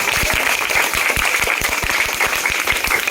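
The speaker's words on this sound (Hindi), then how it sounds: "एक बार प्रांशी के लिए फिर से जोरदार तालियां" A school group applauds the winner of a children's parliament election, brisk dense clapping with distinct individual claps standing out near the front, loud and steady throughout.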